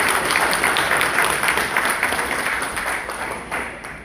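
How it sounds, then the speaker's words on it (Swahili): Audience applause at a political rally or public address in Kenya, a steady wash of clapping from a sizable crowd that swells early and slowly tapers off over about four seconds. "Nipeni makofi ndio niendelee."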